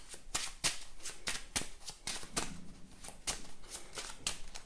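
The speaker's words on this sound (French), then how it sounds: "Je remélange." Marvel Champions game cards being reshuffled by hand, a quick run of crisp riffling bursts repeating in an even rhythm, close up with no talking.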